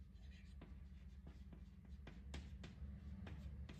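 Chalk or marker strokes on a board during a Hindi-language maths lesson: a series of short, distinct scratching taps at an uneven pace over a steady low hum of room noise, loud and close.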